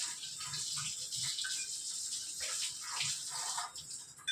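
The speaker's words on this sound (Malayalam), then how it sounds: "നമുക്ക് ഈ ചപ്പാത്തിയുടെ കല്ലൊന്ന് പരത്താനായിട്ടുള്ളതൊന്ന് കഴുകി വയ്ക്കാം." A chapati rolling stone is washed under running water, giving a steady splashing gush from a tap that shifts in tone as the stone is turned.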